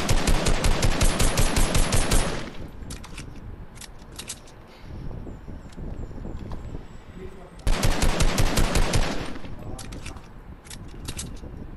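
Automatic gunfire in the video game Fortnite, two long loud bursts of rapid fire at the start and again near the end, with scattered single shots and quieter game noise between them.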